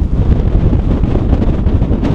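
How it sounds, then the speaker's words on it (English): Strong wind buffeting a microphone on a Scottish mountain summit, a loud continuous low roar with gusty swells, close and unbroken, no speech. "breezy up here"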